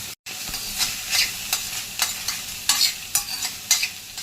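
Grated bottle gourd with its water squeezed out roasts in two spoons of ghee, spatula strokes scraping the pan in a steady rhythm over a soft sizzle, close up with no talking.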